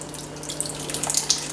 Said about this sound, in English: I'm just gonna pour this right on top of everything